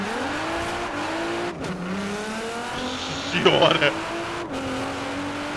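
Nissan GT-R cars, a 2012 and a 2017 model, launching in a Forza racing game, engines revving and rising through gears with a brief tire squeal, under excited voices.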